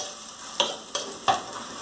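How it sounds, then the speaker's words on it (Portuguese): Garlic and onion frying in a pot, a steady low sizzle broken by four sharp scrapes of stirring spaced roughly evenly, close and moderately loud, with no voices. "Aqui eu botei um pouquinho de alho, um pouquinho de cebola e deixei morenar um bocadinho"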